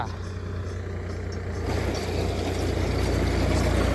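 A Solis 4515 tractor engine idles steadily nearby, a continuous low rumble that grows slightly louder partway through, with a person talking over it.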